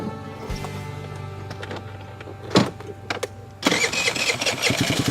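A small inexpensive Jinlun JL50QT-5 Chinese scooter engine cranks with a brief whirring starter, then catches and settles into a loud, buzzing idle close by.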